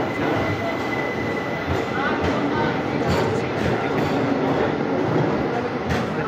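A Vadodara–Sealdah special passenger train rumbles along steadily with loud, constant rolling noise, rhythmic rail clatter and occasional metallic squeals.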